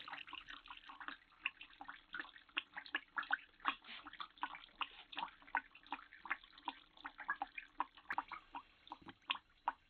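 Water draining from dense clay falls into a container below, thin streams breaking into a steady series of close, quiet drips and small splashes with an irregular rhythm.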